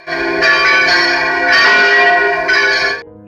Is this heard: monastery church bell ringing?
yes